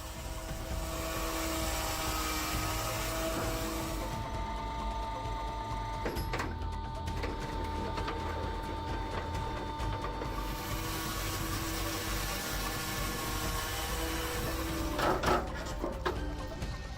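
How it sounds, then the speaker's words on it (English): Homemade machine splitting large logs, a continuous loud mechanical drone with steady engine hum and a few sharp knocks and cracks partway through, no voices. "a self-invented machine has been tested to help split large logs easily"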